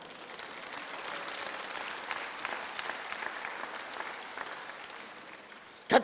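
A church congregation at a pastor's sermon applauds, a steady wash of clapping from many hands that holds for several seconds and then ends in a brief sharp louder burst.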